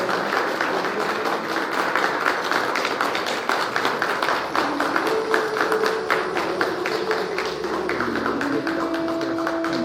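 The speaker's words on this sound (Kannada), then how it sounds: "ಜೋರಾದ ಚಪ್ಪಾಳೆ ಕೇಳಿ ಬನ್ನಿ ಬಂಧುಗಳೇ" An audience claps steadily and loudly at the inauguration of a robotic knee and hip replacement centre at a Mysuru hospital, attended by Chief Minister Siddaramaiah. A sustained tone joins partway through.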